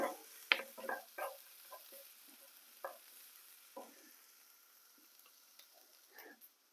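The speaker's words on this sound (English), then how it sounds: "I'm going to put them back on the frying pan," Onions sizzle in a frying pan on a hob over low heat, with soft scattered crackles and occasional stirring scrapes heard close and quiet.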